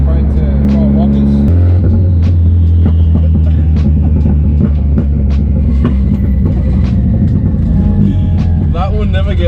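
Nissan S14 with an SR22 engine revving hard and bouncing off the rev limiter in rapid, stuttering cuts, loud and close, with a steady engine drone throughout.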